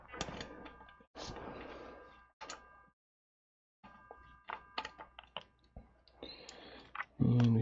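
A ratchet works a bolt loose on a Kawasaki Ninja 250 motorcycle being stripped, quiet close clicking in short runs with brief pauses and a louder clunk at the end.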